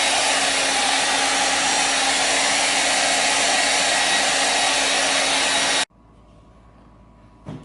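A hair dryer blows steadily and loudly to dry colored ceramic slip on pottery, a continuous broad whoosh for nearly six seconds before it cuts off abruptly, leaving a quiet room.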